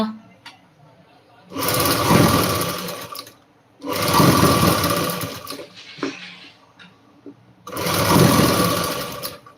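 A sewing machine at a tailoring shop stitching blouses runs in three loud, sustained bursts with quiet pauses between, and faint talk is heard during the gaps.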